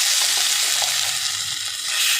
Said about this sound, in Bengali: এবার আমি এই আমলকি আর আদার যে পেস্ট করা নিয়েছি সেটা দিয়ে দেবো কড়াইতে